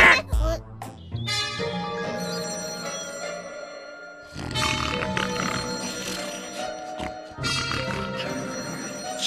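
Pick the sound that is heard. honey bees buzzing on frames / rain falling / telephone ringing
telephone ringing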